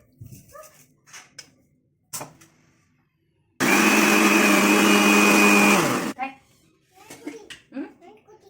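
A kitchen mixer grinder blends yogurt with sugar in a steady, loud whirring burst of about two and a half seconds, with someone talking before and after and a dog barking briefly.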